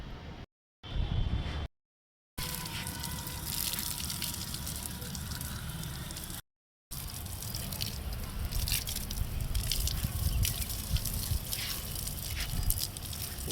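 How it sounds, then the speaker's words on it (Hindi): Water from a filled tank is poured onto garden plants, giving a steady, loud splashing and gushing that runs almost without a break, interrupted by only a couple of brief cuts. "अब पानी डालती हूँ।"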